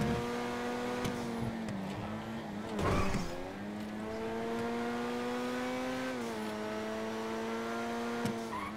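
Race cars on a raceway in Grand Theft Auto during a GT race, engines droning with steady harmonic whine that shifts pitch as the cars accelerate and lift, plus brief bursts near three seconds, heard close and continuous.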